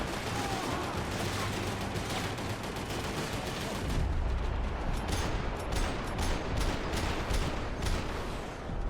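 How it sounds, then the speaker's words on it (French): Mortar rounds and gunfire in Max Payne 3 give dense rapid shooting with heavy low booms, a continuous loud barrage building toward the end. "Oh, il me tire dessus au mortier."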